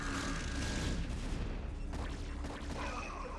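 Cannons fire during a StarCraft match, a dense, continuous barrage of overlapping blasts and crackling impacts that stays loud for the whole stretch.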